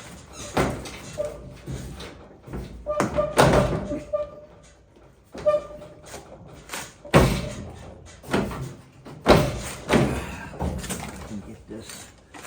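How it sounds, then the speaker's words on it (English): Wooden interior door being hung and lined up in its frame before floor repair, giving repeated knocks, bumps and latch clunks at close range, with a voice talking intermittently under the work. "Getting these doors to line up is always just so hard."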